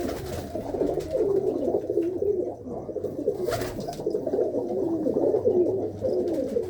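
Pigeons at a pigeon fancier's loft in Mansa coo continuously in a soft, rolling, overlapping chorus, steady and close, with no voices.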